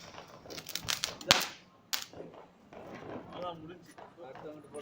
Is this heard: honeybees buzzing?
no